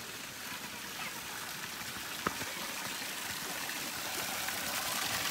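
Water pours from three village spouts during Dashain, a constant soft rushing hiss that grows slightly louder over time, with one sharp click midway.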